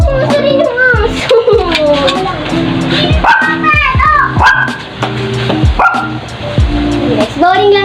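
A dog barks repeatedly at close range, with sharp yips and whimpering in an irregular rhythm, while children play and talk loudly throughout.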